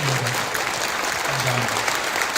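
Church congregation clapping at an Easter union worship service, a continuous wash of many hands close by, with a voice speaking over it now and then.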